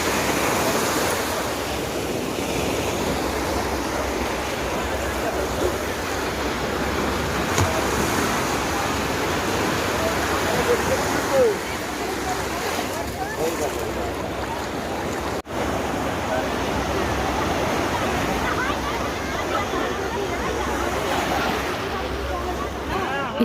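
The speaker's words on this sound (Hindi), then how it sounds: "मुझे लहरों की आवाज़ बहुत ही प्यारी लग रही" Ocean waves roll in at Gangasagar beach during the 2023 Gangasagar Mela. The surf rushes and washes in a steady, continuous roar, with some wind noise mixed in.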